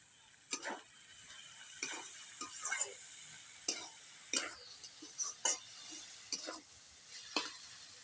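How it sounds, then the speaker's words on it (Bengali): Shredded raw potatoes fry in ginger-garlic paste, a faint, soft sizzle under intermittent sharp spatula scrapes and taps against the pan, spaced irregularly and heard up close. "আলুগুলো খুব ভালো করে ভেজে নেব।"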